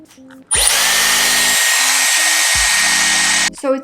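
A Dyson Airwrap hair styler switches on with a sudden whoosh and blows steadily for about three seconds, with a low motor hum underneath, then cuts off.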